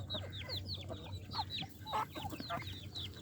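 Hens cluck and chatter in a backyard flock near feed, with a series of short, close, overlapping calls over a steady low background hum.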